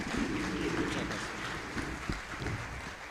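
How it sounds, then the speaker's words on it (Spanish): Audience applause welcoming education speaker Axel Rivas at a book fair, a dense steady wash of clapping throughout with some voices underneath. "los invito a realizar un fuerte aplauso de recibimiento a Axel Rivas"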